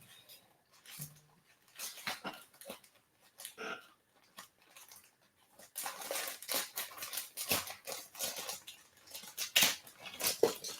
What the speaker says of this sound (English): Let me grab some scissors so we can not make a mess here.